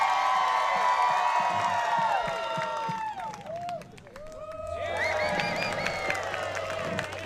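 Guests at a wedding luau in Huntington Beach cheer, whoop and clap loudly for a contestant competing for a grand prize, a dense burst of shouting that dips briefly midway and then swells again.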